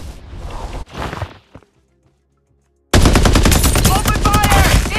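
Loud sustained automatic gunfire from the battle royale game Farlight 84, a dense unbroken burst filling the last two seconds after an earlier stretch of game noise and a near-silent pause.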